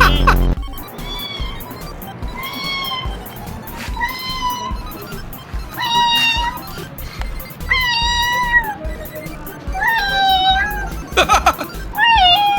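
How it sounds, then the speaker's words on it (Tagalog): A cat meows again and again in drawn-out, rising-and-falling cries, loud and close, spaced every second or two, over low background rumble and a few faint voices. "Tunog pusa nga."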